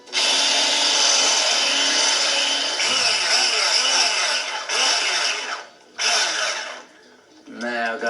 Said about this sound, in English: We're going to whisk for about 3 minutes